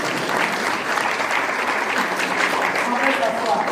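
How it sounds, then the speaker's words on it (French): A congregation at a French-language Catholic mass in Louisville breaks into sustained, dense applause filling the church, with a few voices mixed in. "Il mérite un applaudissement de joie."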